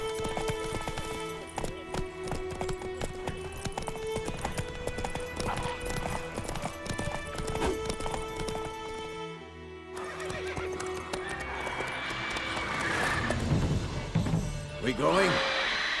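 Horse in The Witcher 3 video game galloping with steady clip-clop hooves and loud neighs, set against a busy game soundtrack with a brief lull midway.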